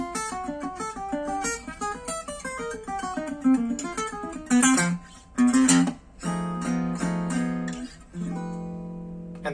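A clean, undistorted jazz guitar plays a flowing bebop line in the style of Charlie Parker, a fast run of single notes built on C melodic minor that ends on sustained chord-like tones, with nothing else playing alongside.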